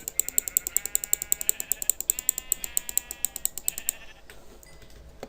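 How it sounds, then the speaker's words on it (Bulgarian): A sheep bleats in a survival video game, heard over a rapid, steady clicking pattern that fills most of the clip, with bright tonal bleats layered on top before the ticking fades out. "Овца."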